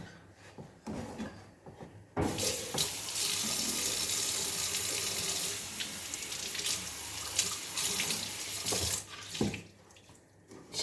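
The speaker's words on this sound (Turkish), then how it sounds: "Şimdi bunun üzerine 2 su bardağı su ekleyeceğiz." Water runs steadily from a kitchen tap for about seven seconds, filling glasses to add to a pot of semolina halva, with soft clatter before and after the flow.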